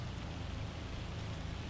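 Steady rain falling, a soft continuous hiss with low rumbling undertone, faint and unbroken with no voices.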